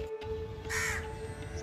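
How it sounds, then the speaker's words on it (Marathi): A crow on a terrace gives a single harsh caw, close and clear, over a steady low hum of background noise with no one talking. "कावळे मामा इकडे येऊन बसलेले आहेत"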